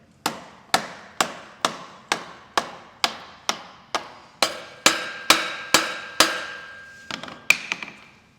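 A mallet strikes a supermoto motorcycle part during axle work in a steady series of about fifteen solid knocks, evenly spaced and fairly close, with a few lighter taps at the end.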